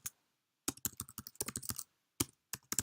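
Someone types a short command on a computer keyboard in quick, crisp bursts of key clicks separated by brief pauses, close and fairly quiet.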